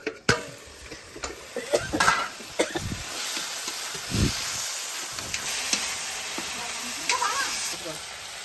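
Duck meat sizzles steadily in a hot pan, with intermittent scraping and clinks of a utensil stirring against the metal.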